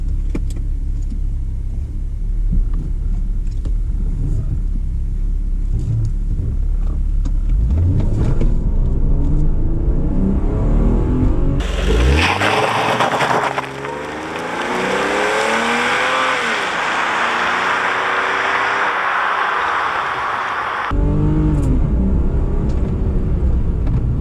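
A BMW E36 325i in sports mode accelerates hard, its engine rumbling and revving up through the gears with rising pitch sweeps, loud and close from inside the car, with a brief tire squeal and no talking.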